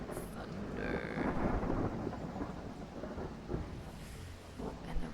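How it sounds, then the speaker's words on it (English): Low rolling rumble of thunder in a horror-mystery video game, a sustained storm-like roar with a faint rain wash, alone without speech. "Thunder."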